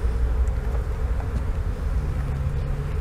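A dense, steady buzz of many honey bees swarming close together in a bucket, continuous and fairly loud for the full few seconds, with no voices.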